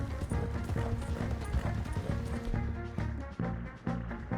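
Horse hooves pound rapidly in a Red Dead Redemption 2 gameplay scene, a dense, loud galloping rhythm with clattering effects and no clear talk over it.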